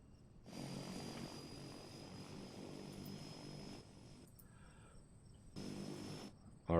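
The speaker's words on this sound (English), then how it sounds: "do those aircraft sounds take over" Aircraft engines drone in the video game Airport CEO, a steady propeller-like hum that cuts out briefly and returns, heard up close with no talking.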